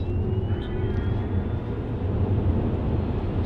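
A Tesla Model S under full acceleration, a thin electric motor whine rising steadily in pitch over a heavy, constant rumble of road and cabin noise.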